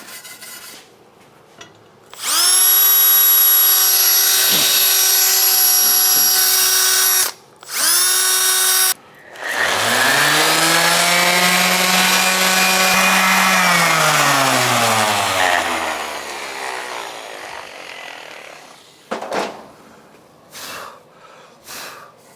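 A power sander works over a Can-Am Outlander ATV wheel, whining loud and steady in a few bursts with brief pauses, then bogging down into a lower, wavering grind as it bears on the metal before winding down to quieter scraping.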